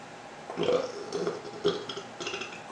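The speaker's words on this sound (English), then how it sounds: "Clown burps are vile." A clown's burp, a drawn-out throaty eructation that rises in the middle and trails off in a few rough pulses, fairly close, with no talk over it.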